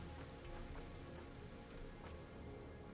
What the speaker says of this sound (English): Yeah, the rain looks nice.